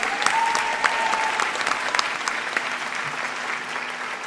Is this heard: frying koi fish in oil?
no